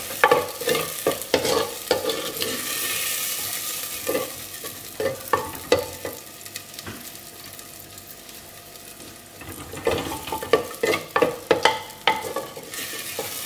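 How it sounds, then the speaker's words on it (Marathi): Tomatoes sauté over medium heat in a pan for Goan prawn curry, a steady sizzle broken by bursts of spoon scraping and stirring clatter, close and fairly loud, with no talking. "आता ना आमी एका बरें सॉटे करुया टोमॅटो सॉफ्ट जावसर."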